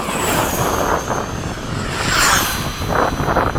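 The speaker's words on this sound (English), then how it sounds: "All right, Frank, full throttle dive." A Freewing 80mm F-5 RC model jet with an electric ducted fan dives at full throttle, making a loud, continuous whine and roar that swells near the end as it passes close.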